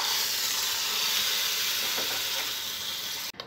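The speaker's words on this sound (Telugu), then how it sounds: "ఫ్రై అయిన తాలింపుని ముందుగా రెడీ చేసి పెట్టుకున్న పెరుగులో వేసుకోవాలి." Hot tempering fried with turmeric is poured into yogurt for a coconut buttermilk curry, giving a steady, close hiss and sizzle that lasts the whole moment before cutting off sharply at the end.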